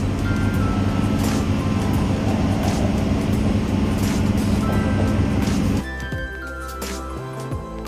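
Howrah-Kalka train passing close by, a loud sustained rumble and rattle of the coaches with steady tonal hum, cutting off abruptly near the end to a quieter mechanical drone.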